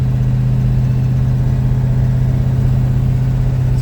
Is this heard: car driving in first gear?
yes